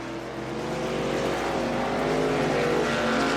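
Racing trucks roaring around the Eldora dirt track in a racing video game, a steady, loud blend of engine drone that builds slightly over the few seconds, with no voices.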